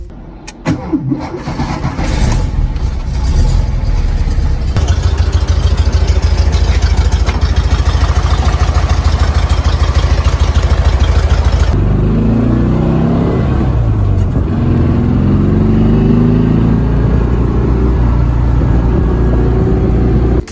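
A 1956 Porsche 356 A 1600 Super with its flat-4 engine in the Porsche Unleashed video game cranks and fires, then settles into a loud, steady idle before its pitch rises as the revs build, with no other sound over it.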